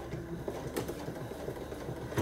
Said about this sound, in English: I'm just going to sew kind of close to the edge.